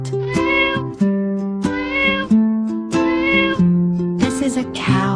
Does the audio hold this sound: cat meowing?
yes